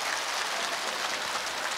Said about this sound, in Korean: 환영의 박수를 또 한번 크게 쳐주시기 바랍니다.